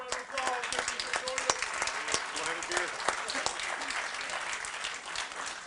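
Audience applause fills a fire department swearing-in ceremony for a new chief and deputy chief, a steady round of many hands clapping with sharper individual claps, heard over talk near the start.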